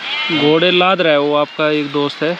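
A herd of goats bleats loudly and close by, with repeated wavering calls overlapping across the whole stretch. A voice speaks at the same time.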